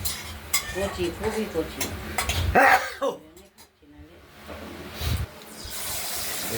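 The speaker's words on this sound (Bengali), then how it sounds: "কড়াইতে আমরা কালো জিরে সহ এটাকে ভাজা ভাজা করে নিলাম চাল কুমড়োর চোকলাটাকে" Ash gourd peel frying in oil with black cumin in a wok, stirred with a utensil so there are scraping clatters and a soft sizzle, with a person talking over it.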